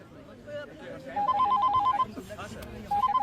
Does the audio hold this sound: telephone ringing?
yes